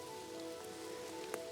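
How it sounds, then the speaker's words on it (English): Rain falls outdoors as a steady, dense hiss of drops striking surfaces, continuous and fairly close with no voices. "it did start to rain"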